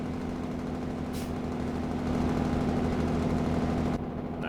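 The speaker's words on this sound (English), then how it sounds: "Do more engine braking." A heavy truck engine in American Truck Simulator drones in a steady low rumble while engine braking, loud and continuous.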